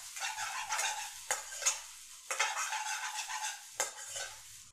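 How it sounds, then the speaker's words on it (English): Rice is stirred into lamb biryani in a pot, with repeated scraping, sweeping strokes of a spoon against the metal over a soft sizzle and no talking. "Just keep mixing it"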